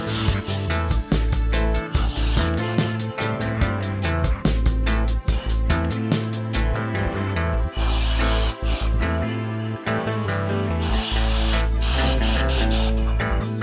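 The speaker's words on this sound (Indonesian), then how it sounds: "Kita hanya menyemprot-semprotkan gini aja." A fully automatic steam iron system with six iron heads releasing bursts of steam through its valve, loud hissing sprays repeating in quick pulses over a continuous mechanical hum.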